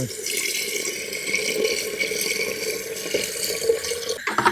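Water is poured into a pot of well-cooked vegetables at a forest campsite, a steady continuous splashing pour heard close up with little talk.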